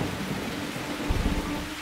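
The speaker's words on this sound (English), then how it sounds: "but the rain started." Steady rain falls outdoors with low thunder rumbling underneath, a continuous wash of drops that swells slightly partway through, with no voices.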